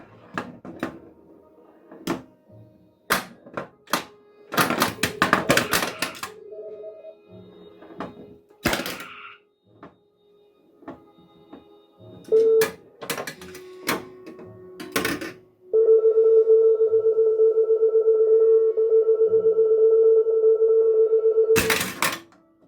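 A Star Trek pinball machine plays its sound effects, including photon torpedo firing, as a run of sharp electronic bursts and clicks, brief beeps, then a long sustained tone, heard alone without talk.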